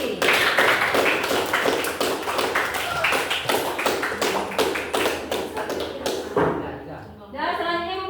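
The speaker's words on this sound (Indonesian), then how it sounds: "tepuk tangan untuk Sahrizki" A classroom of students breaks into applause for a classmate, dense rapid clapping close and loud throughout, with voices mixed in and a short pause near the end before it resumes.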